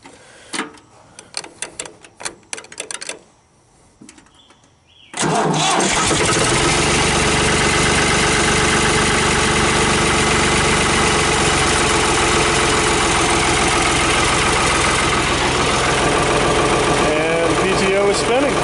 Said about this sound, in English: And PTO is spinning.